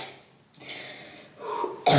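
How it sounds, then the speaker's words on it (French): A single uncontrollable throat cough, close and fairly soft, forms a short rasping burst in a quiet room. "C'est la toux que tu ne peux pas contrôler"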